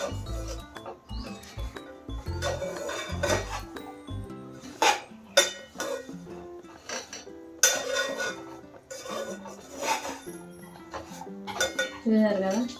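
Makhana being stirred with masala, jaggery and sesame in a pan on low heat: repeated metallic scraping and clinking of a spoon against the pan, steady and close, with no talk.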